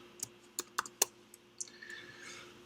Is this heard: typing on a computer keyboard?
yes